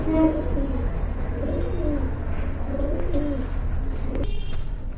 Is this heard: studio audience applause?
no